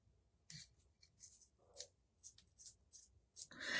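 Scissors snip through material while wood owl decorations are made, a series of short crisp cuts close by, spaced irregularly in quick succession over a quiet background.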